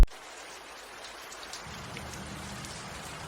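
Steady heavy rain hiss on a city street, continuous and even, with a low rumble joining partway through.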